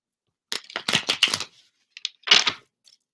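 Tarot cards being shuffled by hand, a run of quick papery riffles and slaps in bursts over about a second, then a pause and a second short burst, close and fairly crisp with no talk.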